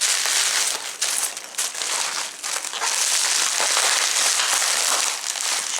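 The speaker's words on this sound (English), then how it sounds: "Move these packing peanuts." Foam packing peanuts shifting and rustling inside a computer shipping box, a loud, close, continuous crinkling and squeaking with brief dips as handfuls are pushed around.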